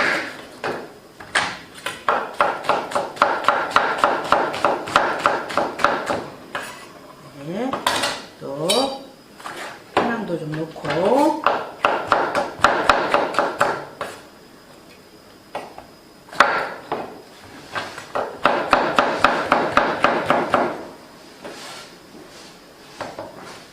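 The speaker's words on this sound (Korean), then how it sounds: "야채 좀 손질할게요. 파가 들어가야 되고요." Green onions being prepared in a home kitchen: repeated rapid knife chopping on a board in bursts, along with clinks and clatter of dishes and utensils, fairly close, with no talking.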